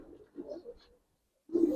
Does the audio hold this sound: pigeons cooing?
yes